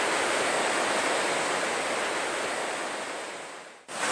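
Floodwater rushes down a road turned into a river after torrential rain in northern Kyushu, a loud, steady roar of broadband water noise throughout that cuts off abruptly near the end.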